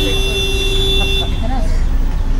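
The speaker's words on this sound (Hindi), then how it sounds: "हॉर्न पे हॉर्न मार रहे, इनको सब्र नहीं है" Car and bus horns honk in busy street traffic, steady sustained tones over a constant roadway roar with a voice talking nearby.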